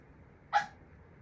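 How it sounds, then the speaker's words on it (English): A single short yip from a small dog that wants to go outside, one brief burst in an otherwise quiet indoor room. "my little dog is in here and she's decided she wants to go outside"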